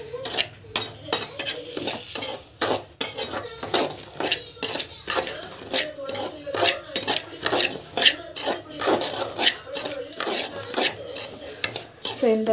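Semolina (rava) roasting dry in a pan for carrot rava bath, with a spoon scraping and clinking against the metal in a steady, busy rhythm of stirring strokes, fairly close and continuous throughout.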